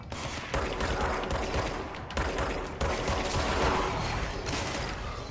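Sustained bursts of automatic gunfire in the shooter game Control, loud rattling volleys broken by brief pauses, with mechanical clicks in between.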